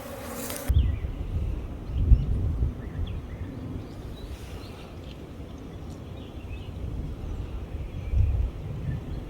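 Honey bees buzzing around a hive as foragers bring in pollen, a dense close swarm hum with drone peaks rising and falling as bees pass near.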